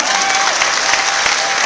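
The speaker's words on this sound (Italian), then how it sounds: "facciamo un bel applauso ancora." An audience at a festival of peoples in an arena in Brescia gives loud, sustained applause for Filipino community performers, a thick continuous roar of clapping.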